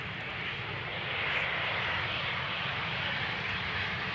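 An airliner arriving on runway 18R at Amsterdam Schiphol Airport, a loud continuous broadband engine roar heard from beside the runway, swelling slightly and holding steady throughout.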